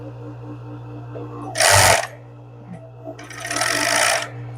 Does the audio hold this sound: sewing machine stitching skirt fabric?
yes